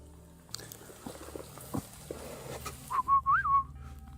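A short rising-and-falling whistled tune rings out clearly near the end, after scattered faint knocks and rustles in a quiet space.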